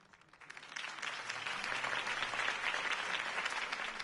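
A video game crowd breaks into applause, swelling quickly from a few claps into sustained, full clapping that holds steady.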